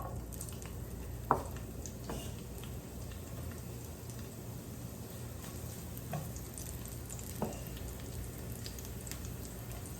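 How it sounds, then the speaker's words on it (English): The white part of an onion fries in canola oil with a soft, steady sizzle and a few faint scrapes and taps of a utensil, quiet and without talking. "We're gonna add the aromatics, like the onion, the white part of the onion."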